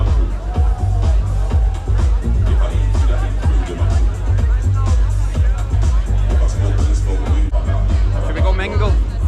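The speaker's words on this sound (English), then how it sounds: "Let's weave ourselves through the crowds of people." A crowd at a night party in Moscow makes a dense babble of voices, with thumping bass music underneath and chatter all around.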